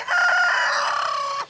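A single rooster crows loudly and close by in one long, drawn-out call that cuts off sharply at the end.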